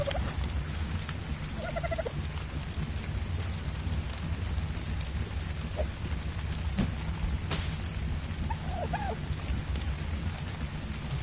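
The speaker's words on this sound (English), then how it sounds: "It's raining inside the house." Rain in the game ARK Survival Evolved, a steady hiss of falling drops across the whole stretch, with faint bird calls poking through now and then.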